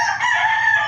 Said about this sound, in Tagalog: kapitbahay namin is may mga manok talaga.